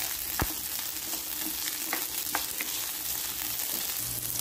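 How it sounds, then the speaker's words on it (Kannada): Capsicum pieces fry in hot oil with a steady, close hiss of sizzling, marked by a few sharp pops and light stirring clicks throughout. "ಎಣ್ಣೆ ಕಾದಿದೆ ಈಗ ಕ್ಯಾಪ್ಸಿಕಂ ನ ಸ್ವಲ್ಪ ಫ್ರೈ ಮಾಡ್ಕೊಂಡ್ಬಿಡೋಣ"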